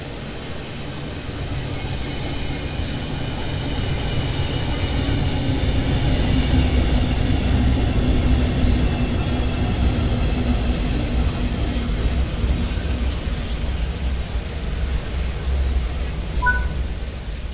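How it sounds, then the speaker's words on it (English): A British Rail Class 395 Javelin train, built by Hitachi, rolls into a station in Train Sim World 3, giving a steady, continuous rumble and rail hum that stays even and fairly loud throughout, with no talk. "Your train has arrived."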